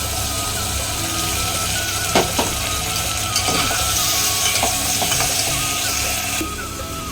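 Ginger, garlic and green chili paste fries in a pan with browned onions, a steady close sizzle with a few sharp utensil clinks partway through.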